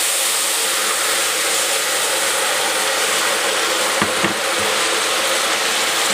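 Steady broadband hiss of melted sugar syrup sizzling in a pan for leche flan, continuous and fairly loud, with a faint clink near the end.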